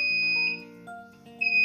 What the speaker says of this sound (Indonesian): Nanti bisa fokus ke bagian indikasi buzzer yang ada di box panel.